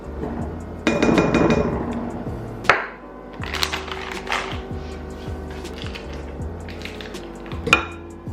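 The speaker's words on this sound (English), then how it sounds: "while I keep mixing" Christmas cookie dough being mixed in a bowl produces irregular knocks, clinks and scraping taps of a utensil against the dish, with a louder rattling burst near the start and sharp hits scattered throughout at close range.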